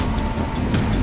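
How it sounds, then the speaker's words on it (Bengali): A thunder and rain sound effect from a Bengali horror cartoon: a dense, rumbling wash of downpour with low thunder, loud and continuous for about a second, with no voices. "হঠাৎ একটা বাজ পড়ল কাছাকাছি কোথাও।"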